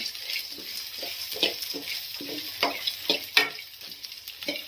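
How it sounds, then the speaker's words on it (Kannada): Spices and ingredients fry in a pan for a green gram curry, a soft steady sizzle broken by repeated scraping stirs of a spoon, about a dozen rhythmic strokes, close up with no talking. "ಫ್ರೈ ಆಗಿದೆ"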